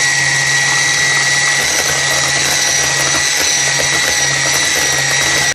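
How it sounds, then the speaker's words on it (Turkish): An electric hand mixer whirs loud and steady at close range as it beats orange cookie dough with flour, a continuous high motor whine that cuts off abruptly at the end. "Şimdi biraz daha mikserle çırpacağım."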